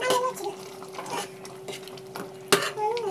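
Bisibele masala mixture is stirred in a pot, with a spoon scraping and clanking against the metal in irregular strokes, close and moderately loud over a faint steady hum.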